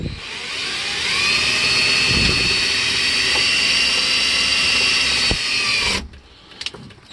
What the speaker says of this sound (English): I'm going to show you how easy this is with a cordless screwdriver